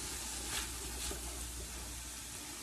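Italian sausage dressing is stirred in a pan on the stovetop, a dense close sizzle with soft scraping swells from the spoon, steady and without voices.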